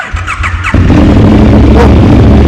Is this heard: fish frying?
no